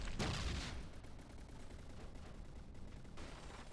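A Gatling cannon fires in the From the Depths naval combat video game: a dense, continuous distant rattle of rapid shots that starts as a louder burst and then settles into a steady, fainter roar.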